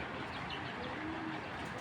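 Belgian-bloodline pigeons coo softly in a loft, a low faint murmur under steady background noise with no talk.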